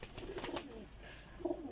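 Fresh, season-ready flying pigeons cooing softly in a loft, a few low rolling coos with faint chirps over quiet background noise.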